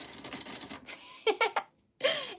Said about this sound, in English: Okay, so this is what fake typing sounds like.